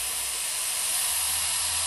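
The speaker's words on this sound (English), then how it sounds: "Let me spray little on this up-down aerosol and show you the product." A copper-based anti-seize aerosol sprays in one steady, loud hiss held for about two seconds, close by and with no voices.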